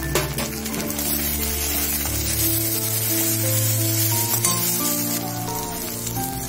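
Onion frying in a pan with ginger and garlic paste for an egg dish gives a steady, even sizzle and hiss, close and continuous with a faint hum beneath.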